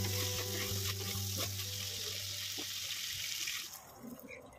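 Bottle gourd pieces hit hot oil in a pan while cooking an Assamese dish, giving a loud continuous sizzle and hiss that drops away abruptly near the end, leaving quieter crackling.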